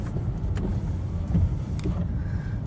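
A 2011 Kia Rio with a 1.4 engine pulling away, its low engine rumble and road noise steady and close throughout with no talking.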